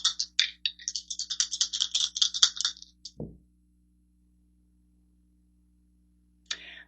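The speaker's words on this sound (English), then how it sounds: "Rolling the dice." Several dice rattle and clatter in a quick, dense burst for a few seconds, close and loud, ending with one hard knock and silence, then a brief final rattle.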